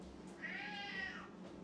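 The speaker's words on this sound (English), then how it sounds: "Sorry, that's my cat." A domestic cat gives a single drawn-out meow, close by and fairly clear, rising and falling in pitch over a low steady background hum in a home kitchen.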